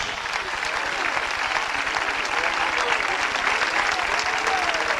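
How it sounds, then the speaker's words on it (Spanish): A congregation at a 1991 evangelical revival meeting in Zulia, Venezuela, applauds steadily, a dense, sustained wash of clapping from many hands that fills the hall without pause. "Denle un aplauso al Señor Jesucristo"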